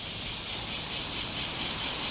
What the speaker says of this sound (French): on s'arrête pour écouter les cigales du Japon